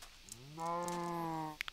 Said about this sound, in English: Come on, cow. We're going home.